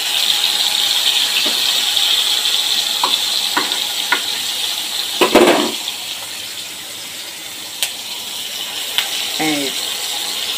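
Fish belly pieces fry in hot oil with a loud, continuous sizzle close by, broken by a few light clinks and a short scraping stir.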